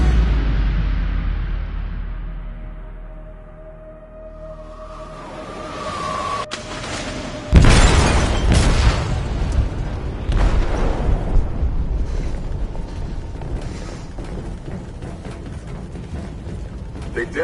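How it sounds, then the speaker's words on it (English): An explosive detonates in a ship's hold in the video game Detroit: Become Human. Low rumbling and mechanical tones build, then a sudden loud, deep blast breaks out partway through and is followed by a long, roaring, crackling rumble. "They detonated an explosive in the hold"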